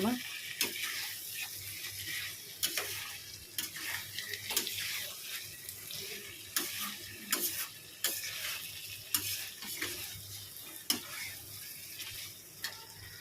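Masala sautés in oil in a pan, a soft ongoing sizzle broken by repeated clinks and scrapes of stirring at an irregular pace, close and moderately quiet.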